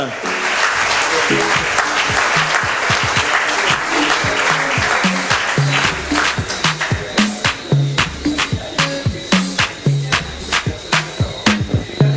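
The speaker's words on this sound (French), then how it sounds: "Vous pouvez encore les applaudir." An audience at a Guadeloupe sports awards ceremony applauds fencing representatives with a full wash of clapping that thins after a few seconds into sharper, separate hand claps.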